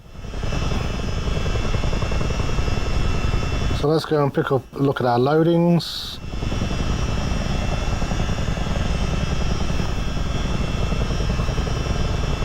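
A US Army Chinook helicopter in Microsoft Flight Simulator gives off a steady, loud rotor and engine drone through the whole clip, with someone talking over it partway through.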